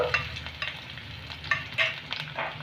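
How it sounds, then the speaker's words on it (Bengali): Chopped garlic frying in oil in a pan for an achari taro dish, stirred in short bursts with a spoon scraping in a quick uneven rhythm over a low sizzle, close and clear with no speech. "রসুনটাকে আমি একটু নেড়ে নেব হালকা।"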